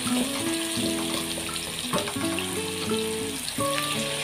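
Garlic and onion sautéing together in a pan: a steady background sizzle under a louder stepped tonal melody that plays throughout.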